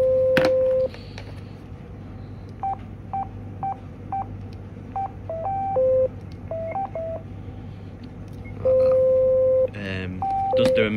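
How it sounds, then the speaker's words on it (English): A CEP400 Tetra radio handset sounds a series of short electronic beeps and tones during a call, with a longer tone near the start and another near the end, over a low steady hum. "Now calling back on the CEP400 Tetra handset."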